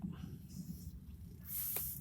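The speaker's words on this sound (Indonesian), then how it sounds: "Jadi kita semprotkan ke atas daun seperti ini, ke batang." A hand sprayer mists photosynthetic bacteria solution onto plant leaves and stems, a short bright hiss near the end over a low background murmur.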